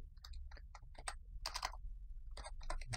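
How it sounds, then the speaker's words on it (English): A noisy gaming keyboard clicks in quick irregular bursts of sharp keystrokes, close and distinct against a quiet background. "Sorry for my keyboard, I have a gaming keyboard,"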